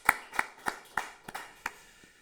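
Congregation in a Korean church service giving warm applause, a sparse series of about seven distinct claps spaced evenly, fairly faint and roomy, with no talk over them.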